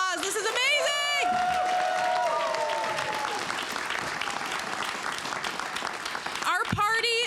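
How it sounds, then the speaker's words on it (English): An audience applauds steadily at a party election-night meeting and AGM, dense sustained clapping filling the hall with some crowd chatter and a voice over it. "Give yourselves a round of applause."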